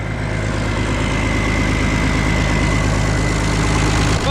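An overhauled Oliver 1950T tractor engine runs at a steady, loud, close idle with a constant low diesel rumble and a faint whine above it, cutting off right at the end.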